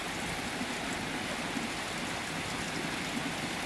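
Steady rainfall during the rainy season pours down in a dense, continuous hiss, with even, close patter on surfaces and no voices.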